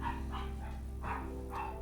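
A dog barks in short repeated bursts indoors, several sharp yips spaced through the moment over a steady low hum, close to the microphone.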